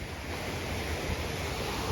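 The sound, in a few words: rushing water of waterfall on hike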